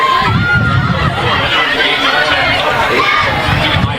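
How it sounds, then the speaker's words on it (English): Loud crowd noise rolls through the stands at a women's college soccer match, Stetson against North Florida, a dense steady roar of cheering and voices loud enough to drown out the PA. "Crowd is actually drowning out our PA"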